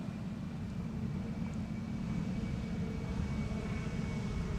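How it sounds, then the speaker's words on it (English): Emirates jet airliner taking off at Amsterdam Schiphol, a steady, broad, low roar that stays constant and fairly loud throughout, with no voices. "Emirates Flight 148 going back to Dubai."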